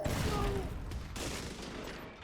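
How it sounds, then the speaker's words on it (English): Grenade launcher fired in a first-person shooter video game, a loud burst of blasts and explosive gunfire-like noise that fades slightly toward the end, with some speech faintly underneath. "Launching grenade."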